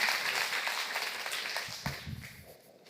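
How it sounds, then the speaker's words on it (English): An audience at a conference talk applauds for a woman on stage, a dense burst of clapping that fades out over a few seconds. "Please, everyone, give Aga a round of applause again."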